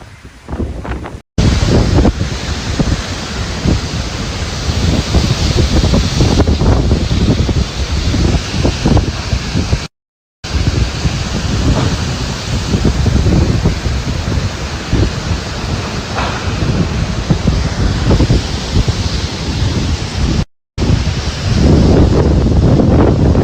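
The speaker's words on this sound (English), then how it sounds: "Wind sideways." Hurricane Ida's wind and surf batter Morgan City, Louisiana, a loud continuous roar of gusting wind buffeting the microphone over crashing surf, broken by a few brief dropouts.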